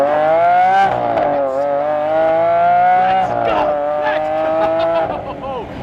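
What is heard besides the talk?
supercar engine accelerating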